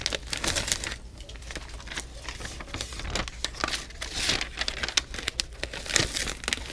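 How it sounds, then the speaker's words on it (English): Label stock peeling and crinkling off a roll on an Aeroflex label applicator for metal cans, a steady run of dry crackling and tearing rustles, close and moderately loud with no talk. "Peel off a couple labels."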